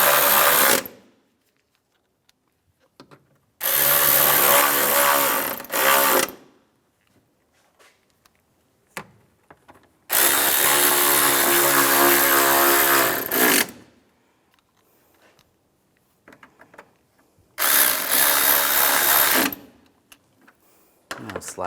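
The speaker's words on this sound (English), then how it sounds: "Now I'm going to put these screws in and tighten them down." A power drill drives screws into an intake manifold cover on a 2004-2010 BMW X3, running in three steady bursts of several seconds each, separated by quiet pauses.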